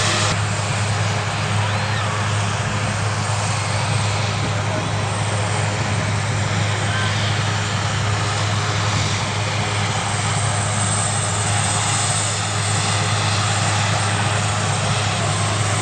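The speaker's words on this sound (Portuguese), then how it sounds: "Tá aí, pessoal, o helicóptero." A rescue helicopter idles and manoeuvres on an airfield during flood relief operations, its engine and rotor producing a loud, steady droning roar with a constant low hum throughout.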